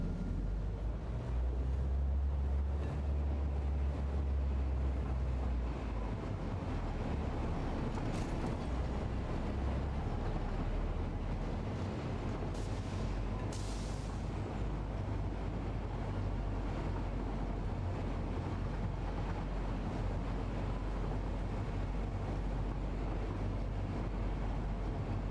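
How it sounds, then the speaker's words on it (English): Train ride in the video game Satisfactory: a continuous low mechanical rumble with airy wind-like noise, steady and unbroken throughout, with no speech. "now for another train ride going back"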